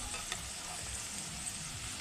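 Lentils for dal chanachur fry in a pan of hot oil, giving a steady, fairly quiet sizzle and bubbling with faint stirring scrapes throughout.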